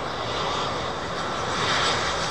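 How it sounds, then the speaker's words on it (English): High-bypass jet engines of an airliner at Miami airport roar as a steady, loud broadband rumble and hiss that swells slightly toward the end, with no talk over it. "those big high bypass engines"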